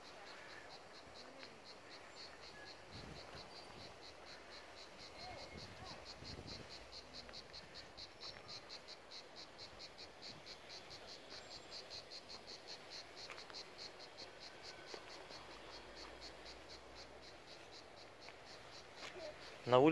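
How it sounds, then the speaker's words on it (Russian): Constant high, buzzing chirring from a single cicada fills the air in a seaside pine forest in Pitsunda, Abkhazia, steady and moderately loud against quiet outdoor background. "О, цикаду сегодня слышно."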